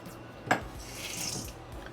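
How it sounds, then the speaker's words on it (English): Water trickles from a tap into flour while dough is being mixed, with a brief splash followed by a soft, steady pour close by. "I'm going to gradually add some water."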